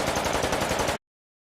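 Rapid-fire weapon sound designed for the video game Doom, a dense burst of fast repeated shots lasting about a second and then cutting off abruptly to silence.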